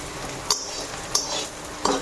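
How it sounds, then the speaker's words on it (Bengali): Onions fry in a pan with a soft, continuous sizzle, and a utensil stirring and scraping against the pan about three times. "আর ও পেঁয়াজ ভেজা দিতেছি দেখো"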